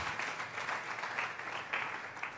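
Congregation applauding during a church service, a dense, steady wash of many hands clapping together that carries on without pause, heard from the middle of a large room.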